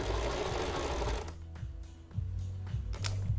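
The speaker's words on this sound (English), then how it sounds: "Sewing this over like this, removing the pins when we get to them." A sewing machine stitches pinned fabric with a steady mechanical whir that runs strongly at first, then breaks into shorter bursts with pauses.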